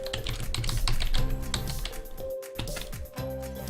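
A password is typed on a computer keyboard during a Kali Linux install, a rapid close patter of key taps under a steady electronic hum, with a brief pause partway through.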